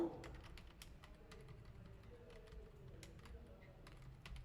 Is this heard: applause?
no